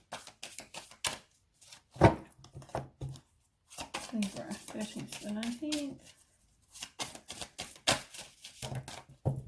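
Tarot cards being shuffled by hand in a series of quick, crisp riffles and taps, with someone talking over and between the shuffles at close range.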